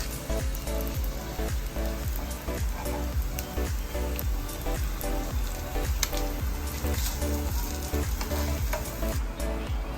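French toast sizzles and spits steadily in a hot pan, a loud continuous crackle with rapid popping throughout and no talking.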